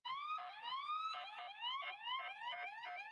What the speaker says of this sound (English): All that police siren and all that, we're used to it.